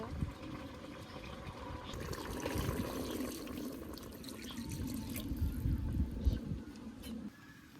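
Water is poured into a cooking pot, a steady liquid pour and splash running for several seconds and ending abruptly near the close, with faint low background activity throughout.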